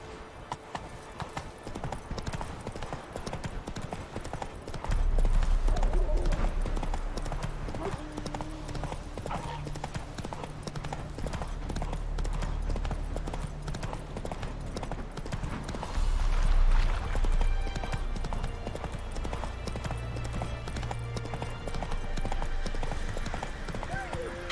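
Horse hooves clip-clop steadily as a horse is ridden in the video game Witcher 3, a continuous rhythmic trot running throughout alongside ambient game sound and some voices.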